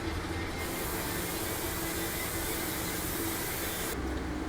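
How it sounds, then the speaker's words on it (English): Close, steady hiss of an airbrush spraying paint continuously in a light coat on a Revell Ford D-100 model kit, rising sharply in brightness for a few seconds before easing back. "let's just make sure I'm spraying paint and not thinner out of this thing"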